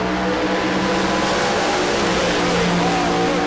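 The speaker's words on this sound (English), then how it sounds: "Getting a nice burn on the tyres there" A drag racing car does a tyre burnout, its engine roaring loudly and continuously with a dense, gritty rasp that holds steady throughout, close and overwhelming.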